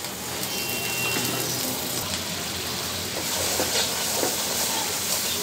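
Spices and garlic paste fry in a pan, a steady broad sizzle and hiss running continuously at close range with no talking.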